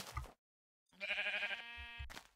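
Video game sheep bleating, a short nasal wavering baa heard clearly after a brief silence, flanked by quick thuds.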